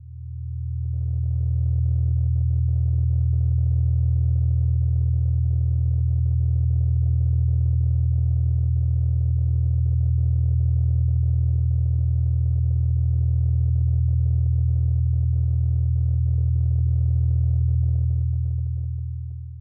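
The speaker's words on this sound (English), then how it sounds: "the city sounds return. Traffic, the refrigerator, the apartment alive with ordinary mechanical processes" A steady, loud low rumble drones without a break, like distant city traffic, with a faint hiss above it and no voices.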